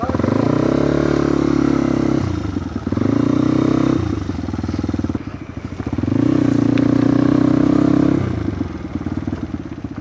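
A motorcycle rides along a rural route in Mangatarem, Pangasinan, its engine droning steadily and swelling and easing with throttle changes, with rattling clatter throughout and no talk over it.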